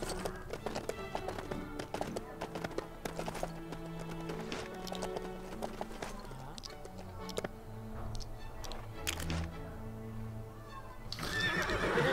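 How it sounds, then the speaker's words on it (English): A little white pony in the LEGO The Hobbit video game whinnies over quick clip-clopping hooves, busy game effects and music around it, louder near the end. "Get my little white pony, yay"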